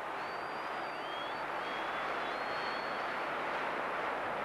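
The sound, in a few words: stadium crowd applauding Paul Hardiman at a football match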